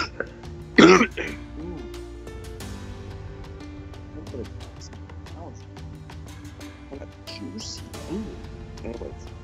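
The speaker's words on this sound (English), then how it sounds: "Oh, cough time." A sharp burst of coughing near the start, followed by quieter scattered throat sounds over a steady background hum during a PlayerUnknown's Battlegrounds gaming session.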